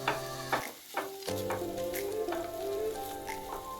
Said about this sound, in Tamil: இப்போ இந்த சக்கரவள்ளி கிழங்கு கொஞ்சம் நல்லா வதங்கணும்.